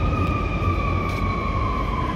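Wailing emergency siren on a noisy downtown Chicago street, two steady tones held over heavy traffic rumble, fairly close and continuous.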